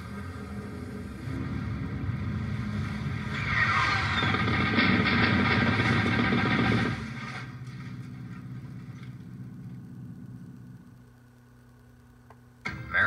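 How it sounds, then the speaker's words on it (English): Patrol boats deploying on a river during a military ambush-clearing operation, engines droning steadily and loud for about seven seconds, then fading to a lower hum before a brief sharp knock near the end. "Patrol boats deploy to neutralize the ambush and clear the river."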